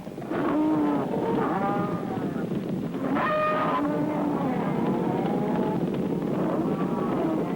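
Cattle on a South American ranch moo repeatedly, several drawn-out calls from a herd over steady background rumble, with some voices in the distance.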